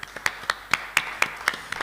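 Sparse clapping from a small audience at a Vociferio 2021 poetry event, about eight distinct claps spaced roughly a quarter second apart, moderately loud and fairly close, with no talk over it.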